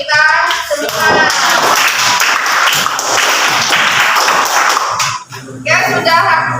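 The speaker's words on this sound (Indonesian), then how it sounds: "Tepuk tangan untuk kita semua." A classroom of students clapping together in a loud, dense burst that runs almost the whole time, with voices at the start and again as it fades.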